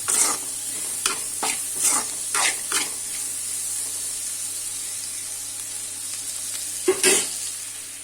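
About ten chopped garlic cloves sizzle steadily in hot oil in a pan while a spoon stirs them in short scraping bursts, with a longer scrape near the end.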